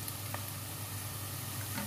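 Onion frying in a pan before okra goes in, a low, dense continuous sizzle heard close and alone for a couple of seconds.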